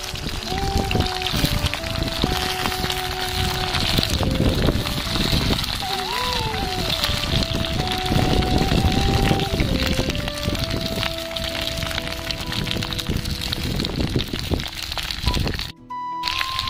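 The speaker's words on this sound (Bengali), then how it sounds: "তেল গরম হয়ে গেছে, এবার আমি কেটে রাখা কুঁদরি আর আলু দিয়ে দেব।" Sliced kundri and potato sizzle loudly in hot mustard oil over a stove, a dense, continuous crackling and spitting that fills the whole stretch, with a voice talking over it.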